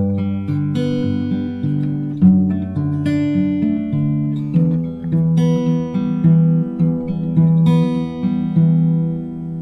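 Strummed guitar chords ring out one after another while the bass notes step steadily downward, clear and unaccompanied.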